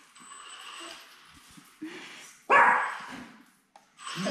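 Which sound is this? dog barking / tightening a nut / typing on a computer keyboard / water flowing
dog barking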